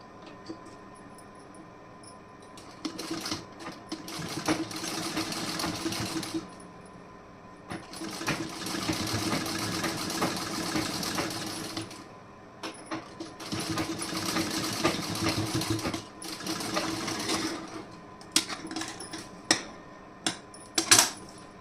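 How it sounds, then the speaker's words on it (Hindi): Sewing machine running loose basting stitches on a garment, three long bursts of rapid mechanical whirring separated by pauses, followed by short clicks and taps near the end, close and clear. "अब यहाँ से एक सिलाई लगाऊंगी, कच्ची सिलाई"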